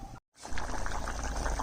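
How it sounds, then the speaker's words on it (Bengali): Water poured into a curry broth while cooking makes a steady close splashing gush that starts after a short silence and continues to the end. "খুব একটা পাতলাও হবে না, খুব একটা ঘনও হবে না, সেই আন্দাজে আমি জলটা দিলাম।"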